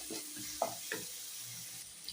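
Coriander and cumin powder sizzle softly in a hot pan while a spoon stirs them, with a few light scrapes and clicks over a quiet, steady frying hiss.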